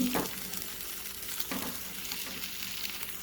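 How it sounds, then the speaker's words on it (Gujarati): Paneer shallow frying in oil in a pan, a soft steady sizzle with a couple of faint scraping touches, close but quiet and without talk. "પનીરને આપણે આની અંદર થોડું શેલો ફ્રાય કરી દઈશું."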